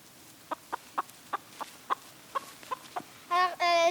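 A run of short, sharp clucks spaced about a beat apart, then a louder, drawn-out squawking call at the end; nearby and clear, no talking.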